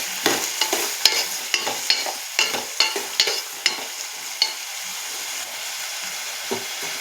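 Raw prawns and tamarind curry are stirred in a pan, with a quick series of sharp scraping, clacking strokes against a soft sizzle, thinning out toward the end.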